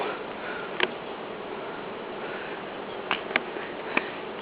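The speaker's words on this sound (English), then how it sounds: "hive. Look at all the bees." Bees swarming around a hive outdoors, a steady faint buzzing hum with a few brief sharp clicks standing out above it.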